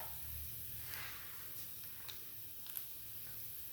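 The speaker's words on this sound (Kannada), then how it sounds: "ಈಗ ಫ್ರೈ ಮಾಡ್ಕೊಳ್ಳೋಣ. ಕಡಲೆಬೇಳೆ, ಉದ್ದಿನಬೇಳೆ, ಜೀರಿಗೆ, ಸಾಸಿವೆ." Chana dal, urad dal, cumin and mustard seeds frying in oil for methi rice bath, a faint steady sizzle with a few small pops and crackles.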